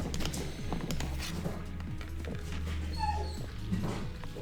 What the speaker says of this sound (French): Ça c'est ma chienne que mon fils vient d'aller promener.